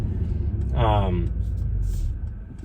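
A Mercedes AMG GLE 53 SUV rolling downhill in third gear, a steady low engine and road rumble with a brief rising tonal sweep, heard from inside the cabin.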